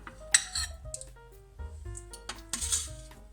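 Dishes and utensils clink and clatter as steamed vegetables such as tomatoes, courgettes and onions are plated, several sharp metallic and ceramic knocks spaced irregularly, close and clear, with no talk.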